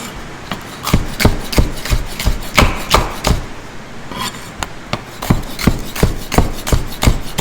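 A knife cuts a capsicum into strips on a cutting board, with about a dozen crisp, evenly spaced chops landing close and loud, then a short pause before the rhythm resumes.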